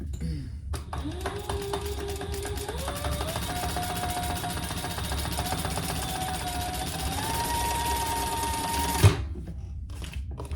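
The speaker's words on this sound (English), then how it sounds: "we're going to top stitch on the top here" A sewing machine top stitches a crossbody bag, a close, steady whirring run with rising speed changes and a clunk as it stops near the end.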